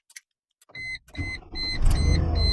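A Chrysler Crossfire fitted with a pushbutton start kit: a few soft clicks and a whirring chime, then the starter cranks briefly and the engine catches and settles into a steady, close idle.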